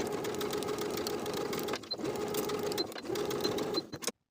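A sewing machine stitches a pant pocket lining seam with a close, steady, fast mechanical whir. It pauses briefly twice before running again, then stops abruptly.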